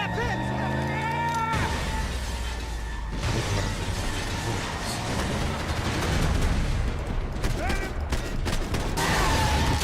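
Gunshots in Max Payne 3, scattered heavy shots and crashing impacts amid game effects and music, with someone talking over parts of the action.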